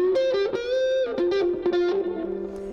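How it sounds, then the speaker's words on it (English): An acoustic electric guitar played through an amp with distortion rings out in a loud, buzzy run of sustained notes and chord changes, each attack sharp before the tone holds, with no voices. "when I turned on the distortion"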